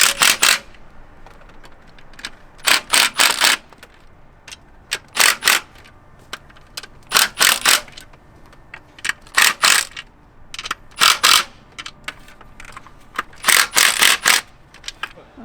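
A ratchet wrench tightens the oil filter housing bolts on a 2000s BMW E90 328i. Clusters of sharp metallic clicks come in short repeated bursts, close by, with no talking.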